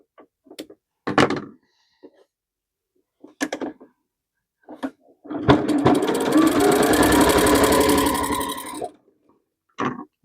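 A sewing machine stitching a hem on a fabric strip: a few short thumps and brief bursts, then a sustained rapid mechanical whir for about three seconds, close and loud.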